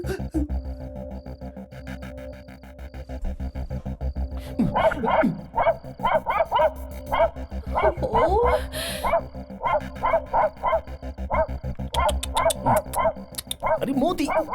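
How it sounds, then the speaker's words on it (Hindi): A dog barks repeatedly in bursts of yips and barks, close and loud, in a scene from a Hindi-dubbed Indian film, with some speech and background sound around it. "ये कुत्ता वहां देखकर भौंक क्यों रहा है?"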